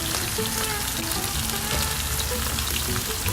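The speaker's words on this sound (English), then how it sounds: "We have an okay sear on the first side of this one." Sous vide steaks searing in a hot backyard pan give a loud, steady sizzle and crackle of fat that holds throughout with no pauses and no voices.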